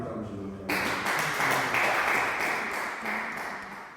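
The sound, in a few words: congregation applauding and acclaiming God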